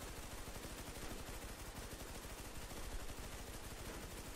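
Gunfire in a shooting video game comes as a dense, unbroken stream of rapid automatic shots, loud and steady throughout.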